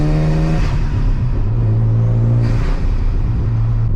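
A Mazda RX7 rotary engine under way while driving, heard as a loud, steady close-up drone with sustained tonal engine hum that shifts pitch slightly as it pulls, filling the whole stretch without speech.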